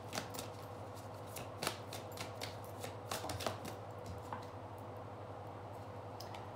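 Tarot cards shuffled by hand during a reading, soft riffling flicks and light taps coming in irregular clusters, close and fairly quiet over a steady low background hum.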